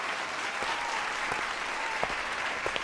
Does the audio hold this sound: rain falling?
no